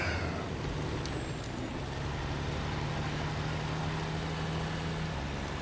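A truck in the off-road driving game SnowRunner idles with a steady low engine rumble, over which a sharp hiss of air brakes releases near the start. The broadband drone continues evenly and loudly, with no voices.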